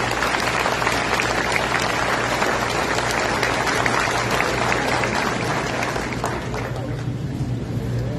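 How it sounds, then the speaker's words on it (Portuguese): Applause from the audience at a formal municipal council ceremony honouring families of honorees, a full, loud, continuous round of clapping from a large room that tapers slightly near the end. "Nossos aplausos, então,"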